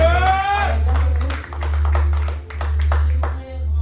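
A church congregation claps together in a steady run of close, sharp hand claps, with a voice calling out over the start.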